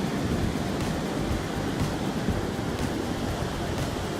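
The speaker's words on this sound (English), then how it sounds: "See, those waves are pretty." Ocean waves in Costa Rica as a steady, broadband wash of surf with faint periodic swells, fairly close and continuous, with no voices over it.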